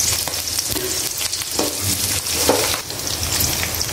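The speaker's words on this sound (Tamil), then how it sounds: "பாருங்கள் இந்த அளவுக்கு வெங்காயம் நல்லா வதங்கிடுச்சு" Shallots, garlic and curry leaves fry in hot oil in a pan, giving a steady loud sizzle with crackles and occasional stirring scrapes and clinks throughout, with no talking.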